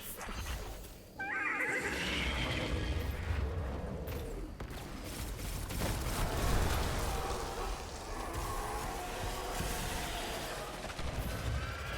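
A horse neighs loudly in the video game Destiny 2, a drawn-out whinny rising over game noise, followed by continuous rumbling effects and clashes of combat, with no talk.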